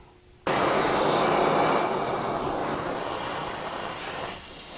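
A gas torch roars steadily, heating steel for brazing after it has been ground down to clean base metal; the broadband rush starts abruptly and holds loud and close throughout, with no talking.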